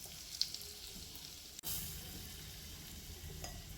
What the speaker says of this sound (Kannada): ಎಣ್ಣೆ ಕಾಯ್ದದ. ಈಗ ಇದಕ್ಕೆ ಸಾಸಿವೆ ಹಾಕ್ತೀನಿ